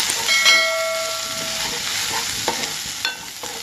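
Chicken pakoda curry fries loudly in a pan while garam masala, coriander and other spice powders are stirred in, a constant hissing sizzle broken by a few scraping spoon strokes.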